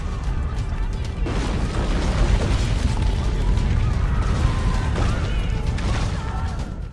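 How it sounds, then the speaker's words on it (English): Rumbling destruction from the 1755 Lisbon earthquake in Assassin's Creed Rogue, a deep continuous roar with crashes and bursts of collapsing debris, loud and sustained throughout. "You experienced the quake firsthand near the beginning of Assassin's Creed Rogue."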